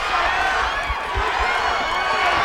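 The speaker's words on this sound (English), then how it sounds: "The crowd is chanting" A crowd roars in a loud, steady wall of noise at a women's bout of the Front Street Fights street fighting event, with its rhythmic chanting blurred into the din.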